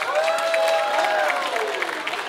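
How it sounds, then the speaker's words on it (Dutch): Applause from an audience for toddlers at a kindergarten farewell ceremony: a steady wash of clapping that holds for the whole moment, with a tonal, voice-like or musical line sweeping through it. "Mag ik nogmaals een applaus voor de peutertjes?"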